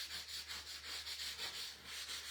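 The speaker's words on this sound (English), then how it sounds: "I'm just kind of sanding with this rough." Rough sandpaper rubbed back and forth by hand over a craft wreath attachment, a close, steady rhythmic rasping of quick even strokes with no talking.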